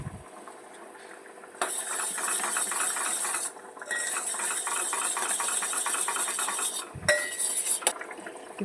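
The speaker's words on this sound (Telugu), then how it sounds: "దీన్ని ఇంకా మీడియం ఫ్లేమ్లో అయితే పెట్టుకొని చక్కెర కరిగేంత వరకు కలిదిప్పుకుందాం బాగా." Sugar syrup for Mysore pak stirred in a pan over a medium flame, giving a steady scraping, clinking rasp of spoon against metal that runs in long stretches with brief pauses, close and fairly loud.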